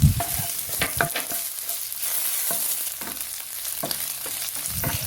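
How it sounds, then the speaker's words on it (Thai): Steady crackling sizzle from a hot pan as soaked, sliced shiitake mushrooms are stir-fried, broken by repeated scraping and stirring strokes as food is tossed, close and fairly loud, with no talking. "เห็ดหอมก็เอาไปแช่น้ำให้นิ่มก่อนนะครับ แล้วค่อยนำมาหั่น แล้วก็นำมาลงผัดครับ"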